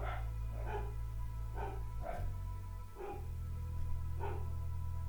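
Dogs barking indoors in a house, a series of about six evenly spaced woofs over a steady low hum, moderately distant and fairly faint.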